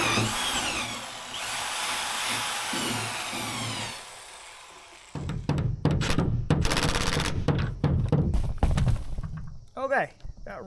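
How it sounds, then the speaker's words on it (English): An impact gun fitted with a 14mm bit tightens tie-down bolts in an enclosed trailer, with a steady whir at first, then loud choppy bursts of hammering close by. "So I went with an impact gun now with a 14mm bit instead of using"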